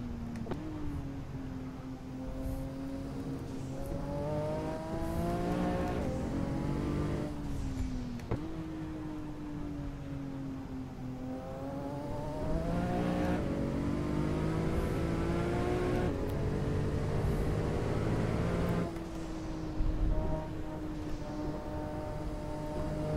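A Porsche GT2 RS MR pulls hard on a hot lap at a circuit in Portugal. The engine note rises and falls as the car climbs through the gears, sustained and loud with no voices over it.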